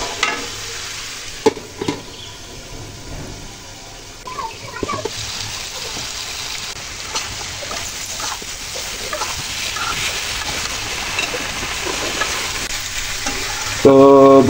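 Lightly salted pumpkin and mixed vegetables stir-fry in a pan, a continuous loud sizzle broken by scraping, clattering stirs, with a sharper knock near the end.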